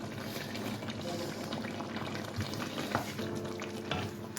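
Tomato concentrate mixed with broth is added to a simmering wild boar cacciatore stew, giving a steady close bubbling and stirring wash with a few soft clinks throughout.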